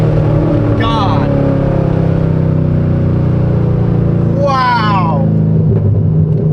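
Chevrolet Corvette C6 Z06 engine holding a steady, loud, deep rumbling idle around 2,000 RPM throughout, with a person exclaiming twice over it.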